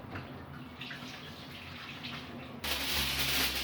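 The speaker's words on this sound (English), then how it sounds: "I'll just wash my hands." A kitchen tap runs while hands are washed during pulled pork preparation, a steady watery rush that starts abruptly near the end and grows louder, preceded by quieter room noise.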